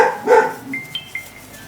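A dog named Scarlett gives one sharp, close indoor bark at a passing mail truck, followed by faint high electronic beeps in the quiet room.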